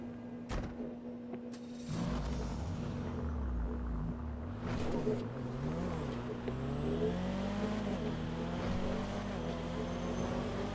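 A car engine hums and revs steadily through a drive in the video game GTA 5, with a constant tonal drone, shifting engine pitch and a few sharp transient knocks along the way.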